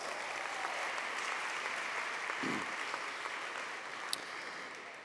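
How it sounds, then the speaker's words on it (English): A graduating class at a KIPP Texas 2026 commencement receives a round of applause, a faint, distant wash of clapping from a large audience that stays steady through the whole stretch. "Let's give them a round of applause."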